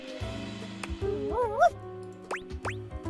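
A cartoonish dog character in the video game Date Everything gives short yips and barks over background music, with a wavering whimper-like tone and a couple of quick rising chirps near the end.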